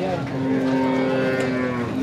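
A Brahman or Sahiwal bull at a busy cattle market lets out a long, loud, close moo over crowd murmur.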